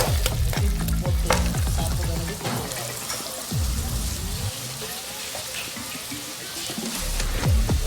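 Tomatoes fry in a pan for an aloo matar curry with broccoli, a loud, dense sizzle with rough scraping stir strokes early on, easing into a steady hiss.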